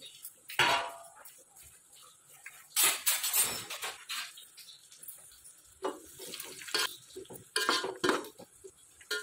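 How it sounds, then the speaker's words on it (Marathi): Dry fruits roasting in ghee in a pan for mango semolina sheera, heard as a series of scraping stirs and metal clinks of a spoon against the pan, moderately close, with no talking. "आता इथे आपण ड्रायफ्रूट सगळे भाजून घेऊया।"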